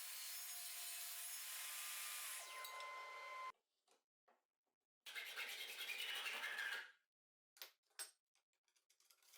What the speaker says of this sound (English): I'm going to cut another section of the profile